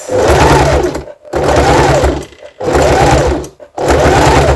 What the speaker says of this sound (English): you can pin like this and sew over your pins